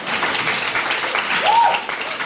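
Audience applause at a presentation event, a dense steady clatter of clapping hands filling the room, close and fairly loud throughout.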